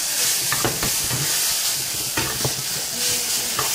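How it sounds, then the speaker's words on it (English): Food sizzling and frying in a pan greased with a little cooking spray and oil, stirred with scraping clinks over a steady loud hiss, close up and without talk. "let me stir this. Oh yeah, these are cooking really"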